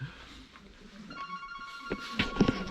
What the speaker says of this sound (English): Is it your phone?